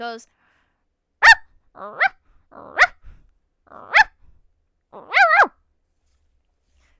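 A person imitates a dog barking, giving five or six separate yapping barks with short pauses between them, loud and close.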